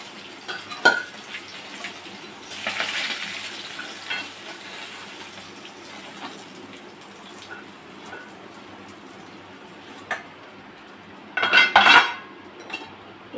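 Fried fish is lifted out of a pan in a home kitchen, with sparse clinks and scrapes of a utensil against metal, and a louder cluster of clattering near the end over a faint background hiss.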